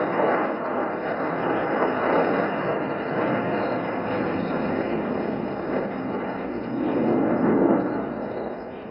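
A fighter aircraft engine roars in a broad, steady rush during the Aero India flying display at Yelahanka Air Force Station, loud and sustained, swelling near the end as the jet passes.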